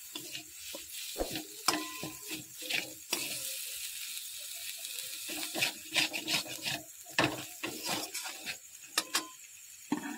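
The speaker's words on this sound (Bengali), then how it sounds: "এবার আমি এটাকে ভালো করে আলুর সাথে মিশিয়ে নেব আমি কিন্তু গ্যাসটা লো ফ্লেমে দিয়ে রেখেছি" Stirring a potato mixture in a pan over a low gas flame: repeated scraping, clicking utensil strokes at close range against a steady soft sizzle, with no voices.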